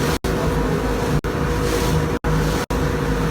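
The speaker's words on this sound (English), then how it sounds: "it's just because of the sound of the engine" Steady engine drone from a running vehicle, loud and continuous, broken by a few brief sharp dropouts.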